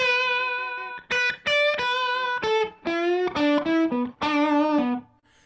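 A clean electric guitar plays a bluesy lick in first position of bent and sustained single notes, a short pause after the first phrase, then a run ending on a held note.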